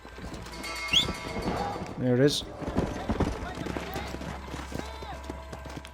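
Horse hooves clip-clop in Red Dead Redemption on Xbox One, a run of quick, close hoofbeats mixed with game effects while someone talks over them.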